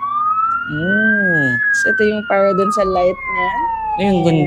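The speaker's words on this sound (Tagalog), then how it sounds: "Yun yung sirena ng bumbero." A toy ride-on fire truck from Little Rider PH sounds its electronic siren, a loud rising and falling wail that runs through the whole clip while a person talks over it.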